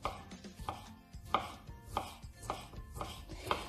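Broccoli being chopped on a board for fitness-style cutlets, a series of crisp knife strikes roughly every half second, close and fairly quiet, with no voices.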